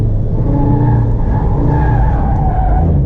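A VW Golf 7R accelerates hard at night with tires skidding and squealing, a loud, close, sustained engine roar and rubber screech lasting the whole moment.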